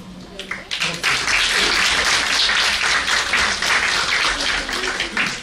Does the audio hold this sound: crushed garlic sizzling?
no